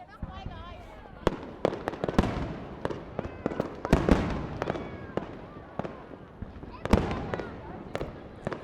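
Fireworks burst at night in a rapid, irregular string of sharp bangs and crackles, some loud and some further off, over a low background.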